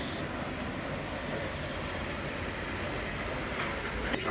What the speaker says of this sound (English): Train arriving at platform 1 is a Southern Line service to Britomart.